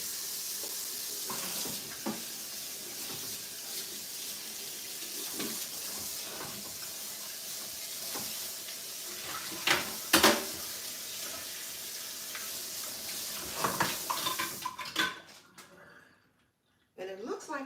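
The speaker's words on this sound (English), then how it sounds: "I'll get that rinsed out. There's a little fish tail down here in the sink." Tap water running into a kitchen sink to rinse out fish scraps, a steady close hiss of flow with occasional clunks and splashes, then stopping abruptly near the end; a person talks over it.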